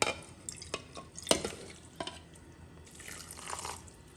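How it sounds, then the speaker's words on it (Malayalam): Water is added to a pot of jackfruit mixed with ground coconut paste, heard as close, scattered drips and splashes with a brief trickling pour near the end, fairly quiet. "കൂടാതെ അല്പം വെള്ളവും കൂടെ ചേർത്ത് കൊടുക്കുന്നുണ്ട്"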